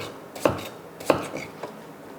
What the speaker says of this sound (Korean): 두께를 약 한 3mm, 4mm 정도 두께로 이렇게 썰어 주시는 겁니다